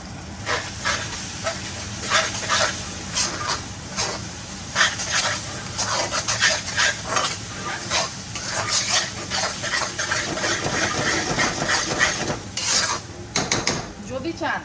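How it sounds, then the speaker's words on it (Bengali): Butter chicken masala being stirred in a hot pan, a steady hiss and sizzle under repeated scraping and clinks of a utensil against the metal, close and fairly loud with no talking. "এখন এটাকে ভালো করে নাড়াচাড়া করবো"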